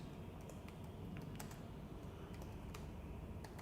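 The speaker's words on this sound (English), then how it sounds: "Now what I'll do is I'll type any name in this place in cell number D1." Keys on a computer keyboard are tapped in quick, irregular bursts while a name is entered into a spreadsheet cell, faint clicks over a low steady room hum, with no one speaking.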